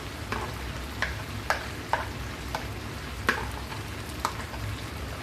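Chicken korma spices, fried onion and cashew paste stirred in a pan, regular spoon scrapes and taps repeating about every half second over a low steady sizzle.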